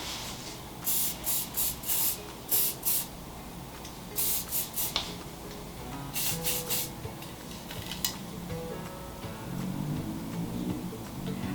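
Hairspray hisses onto hair in repeated short bursts, several quick sprays in clusters, close up, with soft rubbing and handling sounds between them.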